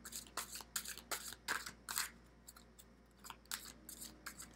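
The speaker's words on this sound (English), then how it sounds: "I'll pull one more card from the Magdalene." An oracle card drawn from a Magdalene deck makes a quiet series of short papery snaps and slides, several in quick succession with brief pauses.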